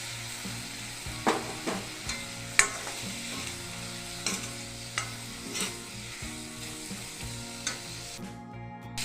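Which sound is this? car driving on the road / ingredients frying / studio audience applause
ingredients frying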